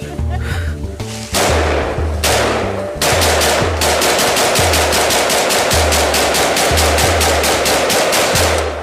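Loud, close gunfire, starting with a few separate shots and then turning into rapid, steady bursts of repeated firing that keep going without a break.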